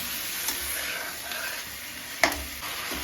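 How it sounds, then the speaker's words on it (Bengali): Chicken pieces frying in a pan on a gas stove for handi chicken, a steady soft sizzle with occasional stirring scrapes and one sharp clink, close and without talk. "সেই জন্য চিকেনটাকে ভেজে নিচ্ছি"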